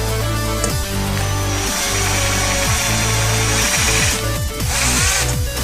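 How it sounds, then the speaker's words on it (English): A power drill whines loudly and continuously, its pitch dipping and recovering as the bit bites into steel, close up. "and now we'll start drilling in this."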